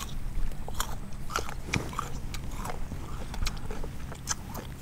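Someone biting into and chewing a fresh Thai guava, with crisp crunching bites and wet chewing repeated at an irregular pace, close to the listener.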